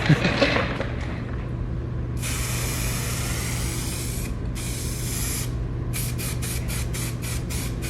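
Primer sprayed from a spray gun onto a vintage Bomex bumper for a Nissan S15, long hissing bursts followed by a run of short rhythmic spurts over a low steady hum.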